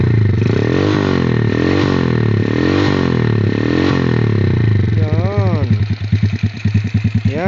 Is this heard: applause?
no